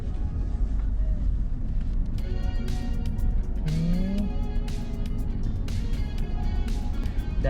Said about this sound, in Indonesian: Mesinnya ciri khas suaranya sih beda dari diesel-diesel yang lain ya